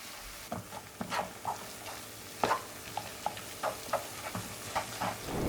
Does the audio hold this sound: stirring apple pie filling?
yes